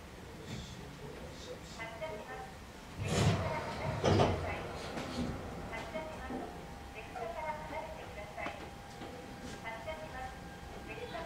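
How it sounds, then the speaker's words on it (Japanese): Shinano Railway train doors sliding shut on the Karuizawa Resort special rapid service at Karuizawa: two soft thumps stand out from the steady cabin hum while a recorded announcement voice plays. "ドアが閉まります。"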